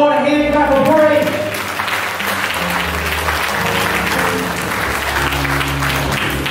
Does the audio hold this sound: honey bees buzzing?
no